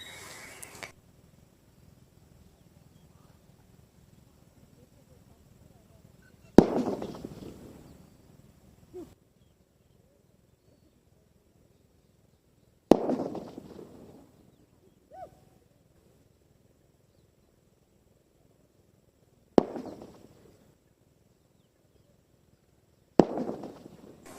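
Four sharp firecracker bangs spaced several seconds apart outdoors in a rice field, each followed by a brief echoing rumble, with near silence in between.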